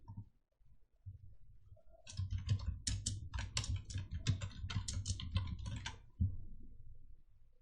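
Someone types on a computer keyboard in a quiet room, a steady close run of soft key clicks at a moderate pace.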